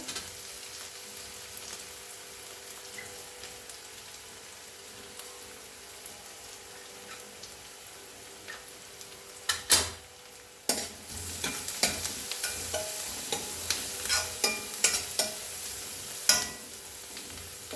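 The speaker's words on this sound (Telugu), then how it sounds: "ఇవన్నీ ఇట్లా కలిపి వేయించుకుందాము" Onions and vegetables with curry leaves frying in a pan for a spinach potato curry, a soft steady sizzle that later gives way to scraping stirring strokes, close and moderately quiet.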